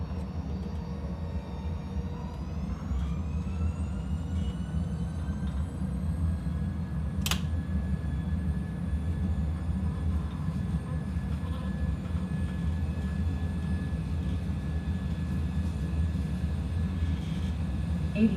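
Jet airliner engines spooling up for takeoff at San Francisco in a flight simulator, a steady broad roar with a rising whine that holds on at an even level.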